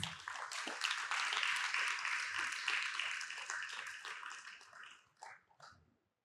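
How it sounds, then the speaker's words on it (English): A debate competition audience applauds in a sustained, dense round of clapping that fades out near the end, with a few scattered final claps. "let us give them some more encouragement with a round of applause"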